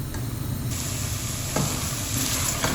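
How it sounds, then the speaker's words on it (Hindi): Steady sizzling and hissing of grated carrot halwa frying on high heat in a hot pan, with occasional stirring scrapes, no voices. "अब इसकी हम 4 से 5 मिनट तेज़ आंच पे भुनाई करेंगे"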